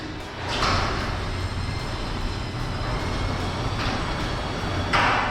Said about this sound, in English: listen to this, super quiet lift master garage door opener.